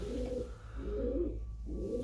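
Young racing pigeons, a red hen and a blue check, coo in low, steady repeated phrases, close by and alone with no talk over them.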